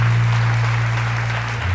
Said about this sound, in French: On va leur dire au revoir avec des applaudissements.